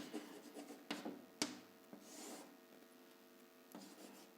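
A pen or marker writes out an algebra identity by hand, giving soft scratchy strokes with a few sharper taps, close and quiet with no talk.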